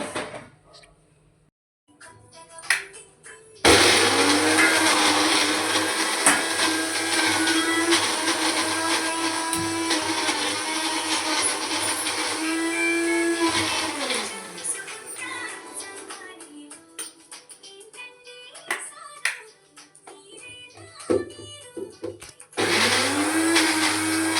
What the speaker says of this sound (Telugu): మిక్సీ పట్టేసి